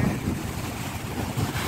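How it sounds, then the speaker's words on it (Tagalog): Strong wind blowing in a park, a steady roaring rush buffeting the microphone throughout without talk. "Malakas ang hangin."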